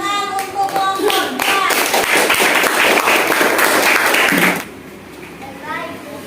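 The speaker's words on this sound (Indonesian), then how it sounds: "tepuk tangan untuk kelompok." Classroom applause for a student group in an Indonesian lesson, a burst of clapping hands from a small class that runs for several seconds, then stops abruptly, leaving quiet room noise with a bit of speech.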